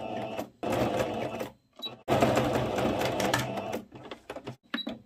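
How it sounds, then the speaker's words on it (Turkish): A sewing machine stitches a gathered skirt in several bursts of fast, rhythmic whirring, separated by short pauses and light clicks. "Bu şekilde dikiyorum."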